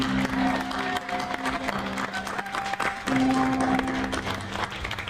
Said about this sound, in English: Now, some warm applause for both of these distinguished ladies.